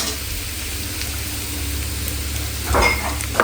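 Cumin seeds and three or four garlic cloves fry in oil with a steady, close sizzle, swelling briefly louder near the end as the pan is stirred.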